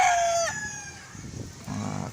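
A Spangled rooster crows once in a backyard, a loud close call that drops off sharply, followed by softer clucking and low murmurs of fowl.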